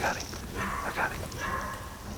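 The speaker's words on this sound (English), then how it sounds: "That was a coyote bark" A coyote barks at night during a hunt, giving several short, yipping barks with rough, rising edges. The calls are moderately close and repeat over about two seconds against a faint outdoor background.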